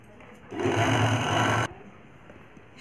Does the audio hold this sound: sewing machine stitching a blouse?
yes